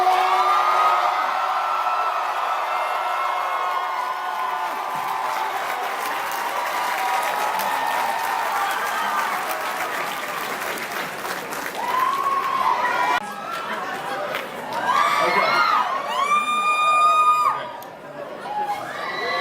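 A large convention crowd at New York Comic Con applauds and cheers continuously, loud and enveloping, with scattered shouts and whoops rising toward the end.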